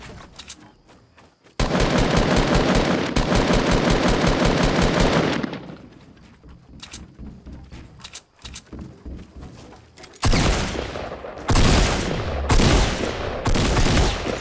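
A player's gunfire in Fortnite Battle Royale comes as loud, rapid automatic bursts, one long sustained volley followed by several shorter close-range strings of shots.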